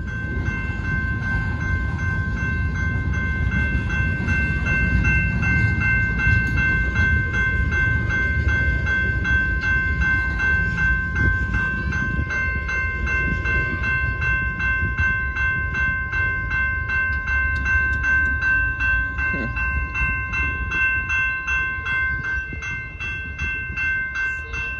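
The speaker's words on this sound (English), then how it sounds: "There goes a BNSF local train featuring Ferromex" A northbound BNSF local freight train with a Ferromex locomotive rolls steadily past a grade crossing on Main Street in Temple, Texas, its loud continuous rumble carrying sustained whistle-like tones and clattering wheels throughout.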